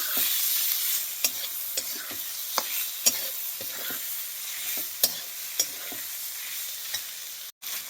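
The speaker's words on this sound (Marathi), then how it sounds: "टोमॅटो घातल्यानंतर परतायचं आहे आपल्याला चांगलं." Green raw tomatoes frying and being stirred in a pan, a steady sizzle broken by scattered sharp clicks and scrapes of the spoon against the pan, close up with no talking.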